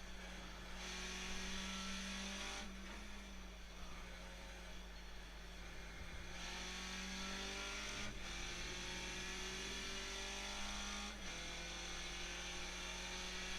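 A Skip Barber race car in the iRacing sim at Okayama drones steadily, its engine pitch climbing in repeated sweeps under acceleration, with brief dips at gear changes and a constant low hum beneath.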